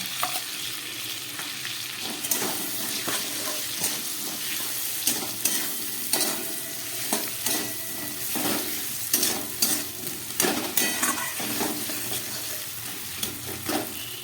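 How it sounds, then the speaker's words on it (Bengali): A poppy seed and green chilli paste fries in a pan with cumin and tomato. A close, steady sizzle runs throughout, broken by frequent scraping stir strokes, with no talk. "পোস্ত কাঁচা লঙ্কাটা একটু ভেজে নিচ্ছি"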